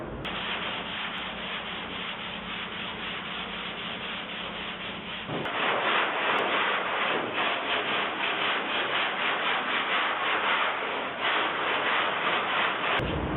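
A short sanding block rubs over body filler on a 1969 GTO in steady, close, scratchy strokes that grow louder and harsher partway through and continue without pause. Nobody talks.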